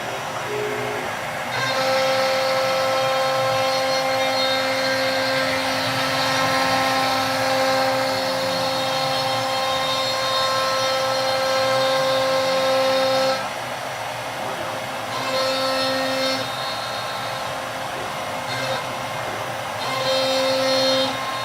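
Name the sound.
CNC machine spindle spinning up after cycle start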